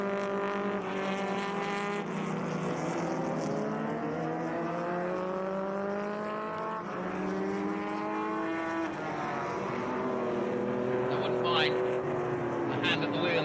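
Vintage race cars including a silver Lotus 23B racing at Mid-Ohio, engines revving and sweeping up and down in pitch as they pass, heard beneath continuous commentary.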